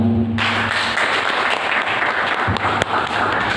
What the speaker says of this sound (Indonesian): Tepuk tangan dulu untuk panitia.